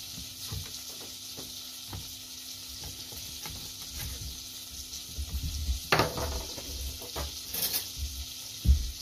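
Butter melting in a pan gives a soft, continuous sizzle, with occasional clatters and knocks of utensils nearby that grow busier and louder toward the end.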